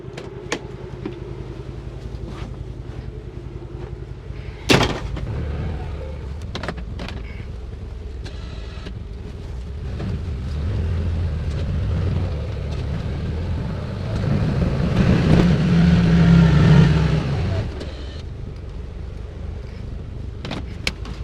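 CF Moto U-Force UTV pushing through deep snow while plowing produces a low, steady engine drone, briefly interrupted by a sharp knock, then swelling into a louder, straining rev before settling back.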